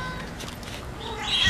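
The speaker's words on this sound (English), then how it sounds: "Oh. Yeah, kittens." Tiny kittens mewing softly indoors, with faint high-pitched mews that grow a little louder toward the end; no one talks.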